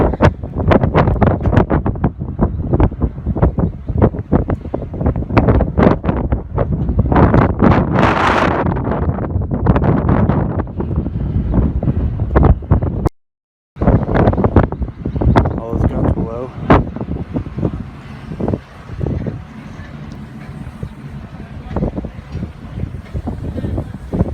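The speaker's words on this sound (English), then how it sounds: "Wind is pretty strong." Strong wind buffets the microphone on the flag bridge near the top of the Battleship Texas, a loud continuous roar with gusty surges that drops out briefly midway, with a voice speaking at times.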